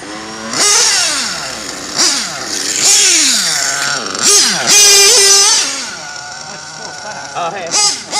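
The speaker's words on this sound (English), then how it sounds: "Yeah, it's an 8-scale Nitro. It's a buggy." Nitro-powered 1/8-scale RC buggy engine revving in sharp repeated bursts, each blip rising to a high, buzzy whine and falling back, loud and close, with a few short pauses between throttle stabs.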